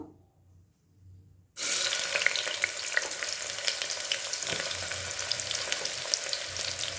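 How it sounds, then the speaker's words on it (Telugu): Sliced onions drop into hot oil for mutton biryani and erupt into a loud, continuous sizzle that holds steady and close after a quiet start. "నూనె వేడయ్యాక ఆనియన్స్ వేద్దాం"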